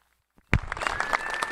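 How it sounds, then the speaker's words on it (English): A crowd at Canterbury Park racetrack breaks into applause after a short silence, clapping building quickly and continuing steadily at moderate distance, with a faint tonal whine running underneath. "please, a raucous round of applause for Pastor Ed Underwood."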